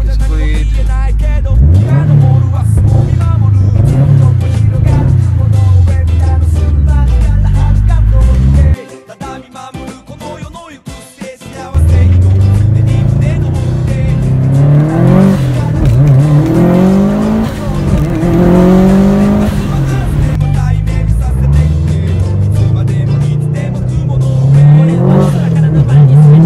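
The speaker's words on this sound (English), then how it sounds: "Now I'm not going to launch the car because it's not necessary, so I'll do a rolling start." Stroked 2017 Subaru WRX STi with about 500 wheel horsepower accelerates hard from a rolling start, a loud close engine climbing through gears with a brief lift between shifts, then pulling strongly again.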